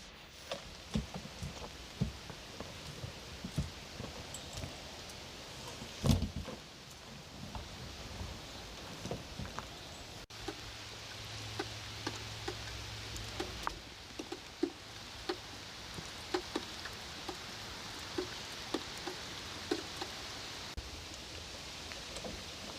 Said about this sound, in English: There's nowhere left to work in this weather. Rain, dampness, everything sticks to your feet.